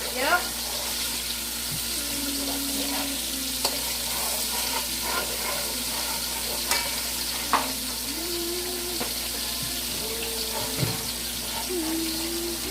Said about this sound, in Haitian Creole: Épices la frit, c'est chachou qui a brassé là.